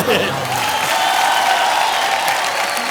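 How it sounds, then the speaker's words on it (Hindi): A studio audience on the Dus Ka Dum television game show breaks into loud, sustained applause, an even, dense clatter of clapping with a few voices mixed in. "तालियां।"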